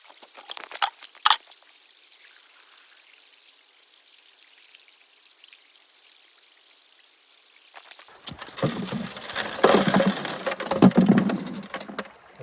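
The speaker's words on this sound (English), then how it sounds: "So let's clean this sluice box out" A gold sluice box being cleaned out in Montana: faint gritty knocks and trickles, then after a quiet stretch a loud rush of pouring water with scraping and sloshing, close up, no talking.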